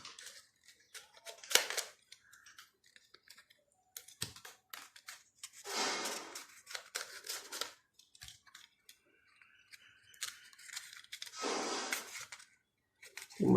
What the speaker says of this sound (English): My knife is not good to cut.